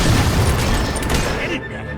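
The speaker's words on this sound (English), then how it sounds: "The mortar's down!" A mortar blast in the Fable 3 video game lands as a loud, heavy boom with crashing debris, followed by a rumbling tail that cuts off abruptly.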